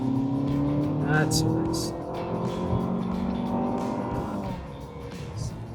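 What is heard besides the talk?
Honda CR-V RS e:HEV engine revving at full throttle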